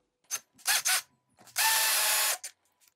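A power screwdriver loosens a wood screw on a workbench, several short ratcheting bursts followed by one longer steady whir, close and clear with no talking.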